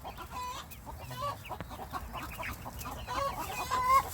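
Chickens on a homestead cluck steadily with growing chicks among them, a busy run of overlapping clucks and soft chirps at close range, no one talking.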